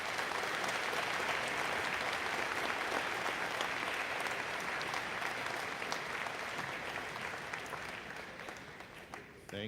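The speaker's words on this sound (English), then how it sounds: "if we could have a round of applause for all these grade 10 prize winners" Sustained applause from a crowd at a school prize day ceremony for grade 10 prize winners, a dense, even roar of many hands clapping that tapers off slightly toward the end.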